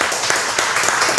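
A studio audience at a talk show claps loudly and steadily in a dense burst of applause that lasts about a second.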